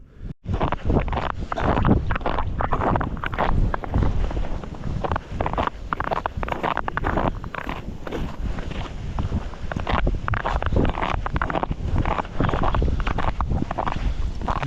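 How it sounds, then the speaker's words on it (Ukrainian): Strong wind roars steadily across open ice during winter pike fishing with tip-up flags, a loud, constant buffeting rush against the microphone with no voices. "Вітер сильний, зриває прапорці."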